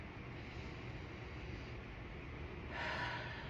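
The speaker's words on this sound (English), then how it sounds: "let me breathe." A single slow, deep breath is drawn and released close to the microphone. It makes a steady, airy rushing sound that swells louder toward the end, with no talking.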